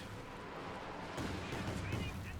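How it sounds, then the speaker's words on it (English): A Katyusha rocket barrage rains down in the Company of Heroes 2 strategy game, with heavy booming impacts and rumbling blasts that swell sharply partway through, layered over a constant din of battle. "Katusha barrage flying straight at the MG42, in fact."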